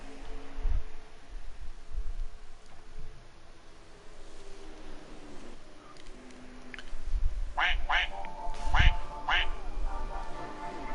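A duck quacks somewhere in the background of a live broadcast from a truck race at Chicagoland, several short quacks bunched near the end over a steady bed of noise and faint activity.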